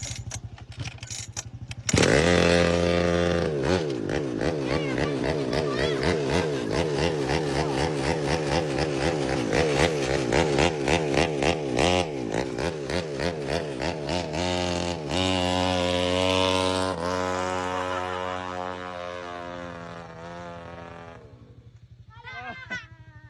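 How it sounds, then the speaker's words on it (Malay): A bicycle fitted with a grass-cutter engine runs loudly and close, its small two-stroke motor buzzing and revving in rising and falling surges before sputtering down near the end. "Kau masuk enjin mesin rumput ni."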